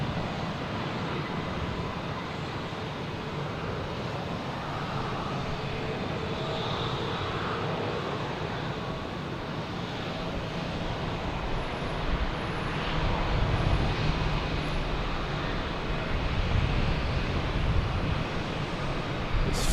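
A United jet comes in to land at Boston Logan, a steady broad engine rush that grows gradually louder toward the end, heard from a distance with some wind noise.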